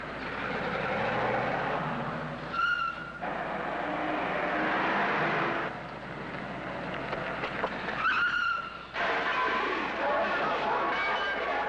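A car engine sound effect runs through an old-time radio comedy show, a rough rumbling motor with squealing skid-like bursts and noisy hiss, loud under intermittent voices talking over it.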